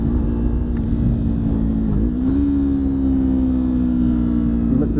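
A Mustang car drives a winding road, its engine giving a loud, steady droning hum from inside the cabin that dips briefly and then settles into a smooth, slightly rising tone as it takes the curves.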